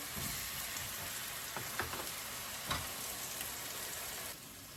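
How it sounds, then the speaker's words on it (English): Pineapple sizzles in butter and brown sugar over medium heat, a soft continuous hiss with a few faint clicks of a utensil turning the pieces, settling slightly quieter at the end. "we're gonna flip over our pineapple, which has been cooking in the butter and brown sugar"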